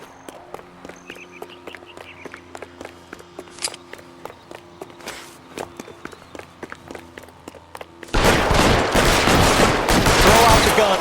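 Gunfire in a shootout in the video game L.A. Noire: a dense, loud, sustained volley bursts in near the end after quieter footsteps and scattered game effects.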